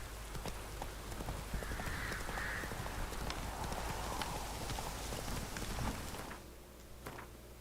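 Roach the horse galloping in The Witcher 3, a steady run of hoof clip-clops close by and fairly loud for several seconds, with a faint breathy whinny partway through, then easing off near the end.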